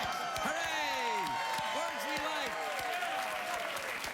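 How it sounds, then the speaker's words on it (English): A late-night talk show studio audience applauds continuously and evenly, with the host's voice speaking over the clapping. "I don't know why you would applaud that"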